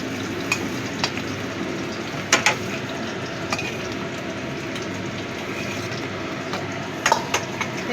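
Crab legs sizzle and crackle as they fry in hot oil in a kadai, a steady dense hiss broken by a few sharper pops and spatters, close and continuous with no talking.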